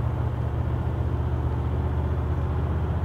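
A remapped 4WD accelerates hard, its engine a loud, steady low drone with dense rumble heard from inside the cabin, unbroken throughout and without speech.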